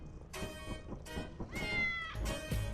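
A cat in the video game Lethal Company gives several voiced, harmonic cries in separate bursts over a low rumbling background, clear and fairly close.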